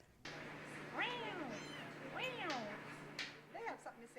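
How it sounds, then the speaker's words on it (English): Several week-old kittens at a cafe meow in high, rising squeaks, close by, one after another over a low steady hum. "a litter of kittens was found"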